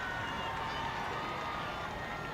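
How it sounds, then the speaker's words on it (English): A stadium crowd at a high school football game, Pinkerton at Bedford, roars in a steady, dense wash of cheering that holds at a constant level throughout, with no individual voices standing out. "Crowd coming alive here."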